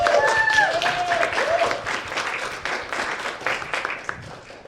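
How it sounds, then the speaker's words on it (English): An audience breaks into applause, a burst of clapping that gradually fades over a few seconds. "This is where you clap."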